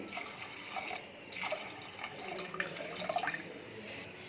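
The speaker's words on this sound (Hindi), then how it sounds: "इसमें हमने 500 ml पानी लिया है, ये डालेंगे।" 500 ml of water pours and splashes into a metal pressure cooker holding urad and chana dal, in several short gushes, close by and fairly soft.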